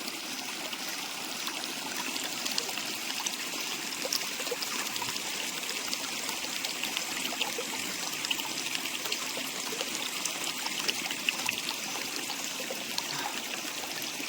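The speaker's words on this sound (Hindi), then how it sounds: "कहते हैं कि बहता हुआ जल" Water trickling and flowing in a mountain stream in Uttarakhand, a steady, continuous babble heard close by with no talking over it.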